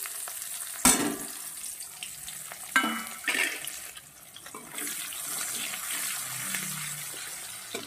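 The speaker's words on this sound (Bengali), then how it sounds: "পেঁয়াজটা সুন্দর করে আগে ভেজে নেব, ভাজা হতে থাকুক।" Onion frying in leftover oil in a scorched wok, a steady sizzle with a few sharp clatters and stirring noises near the start, heard close up with no talking.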